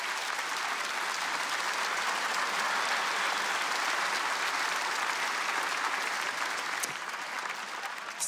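Comedy club audience at the ComediHa! Fest applauding steadily for the full stretch, a dense, even wash of clapping that holds at a constant level without pause.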